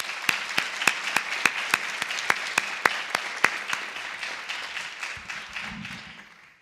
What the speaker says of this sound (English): thank you, and applause